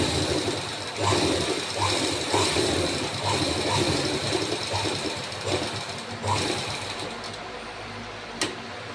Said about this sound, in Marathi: दोन शिलाई लगेच टक्सला करून घ्यायचे